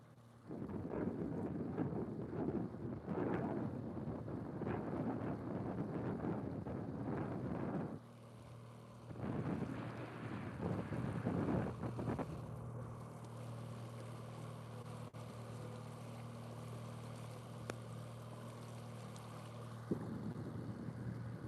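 Strong wind buffets a fishing boat on Lake Morena, roaring gusts rumble into the microphone in long surges, then ease to a quieter steady hum from the boat.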